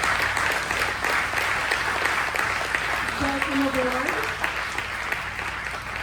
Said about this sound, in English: if you want to give our housing folks a round of applause